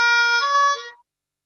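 A harmonica plays a short country pattern of three draw notes, with a bright reedy tone that stays fairly loud and alone before fading out quickly.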